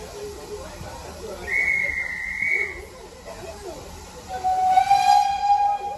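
A steam train on the Dartmouth Steam Railway rumbles along at moderate distance, with two distinct whistle tones sounding over the rolling noise and faint talk in the background.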